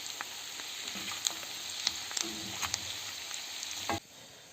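Food sizzles steadily in a hot pan while a utensil scrapes and clinks through it, stirring pork ribs with black pepper and smoked paprika, then the sizzle drops away sharply near the end.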